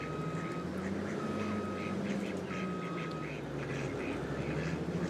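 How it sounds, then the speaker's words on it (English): Ducks quack in a pond in the Farming Simulator 22 game, repeated nasal calls layered over a steady loud engine drone, with faint talk in the background. "of course, the ducks in the pond"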